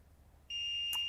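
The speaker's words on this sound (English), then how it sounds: "Beeps to say that it's ready." A craft machine gives a short, high, steady electronic beep to signal it is ready, sounding clearly over a quiet room with no one talking.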